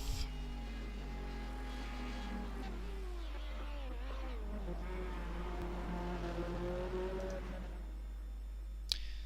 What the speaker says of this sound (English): There we have number 13 car, Douglas McFarland